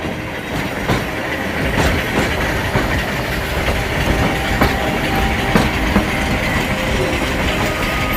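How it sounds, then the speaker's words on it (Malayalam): A Nilgiri Mountain Railway tourist train rolls along its track toward Ooty, with a steady rumble and rhythmic clickety-clack of wagon wheels, loud and continuous with no talk. "2200 മീറ്റർ ഉയരത്തിലുള്ള ഊട്ടിയിലേക്കാണ് ഈ വിനോദസഞ്ചാര തീവണ്ടി സഞ്ചരിക്കുന്നത്."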